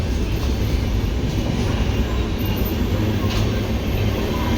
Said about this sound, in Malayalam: നല്ല സ്പീഡിലാണല്ലോ ട്രെയിൻ എത്തണേ